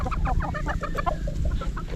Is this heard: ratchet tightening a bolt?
no